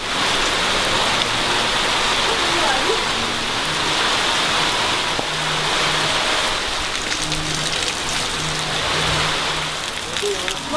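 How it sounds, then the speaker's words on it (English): Steady rain falling on an Indonesian countryside outing, a dense, even hiss of drops that runs throughout, with faint background sounds mixed in. "It just started raining."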